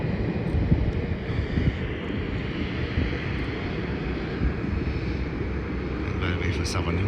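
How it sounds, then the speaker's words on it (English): A Qantas Link Airbus A220 arriving from Launceston comes in to land, its engines a steady, broad roar heard outdoors at a distance with wind buffeting the microphone throughout. "that's an Airbus A220 coming in from Launceston, and that is a Qantas link flight"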